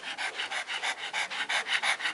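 A pug pants rapidly and steadily, each quick breath pulsing in an even rhythm close up, loud and continuous with no voices over it.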